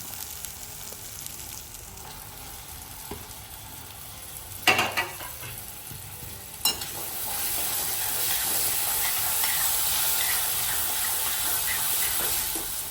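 Tomatoes frying in a dal tadka over high flame, a steady sizzling hiss broken by two sharp spatters as they go in, after which the frying swells louder and keeps crackling close by.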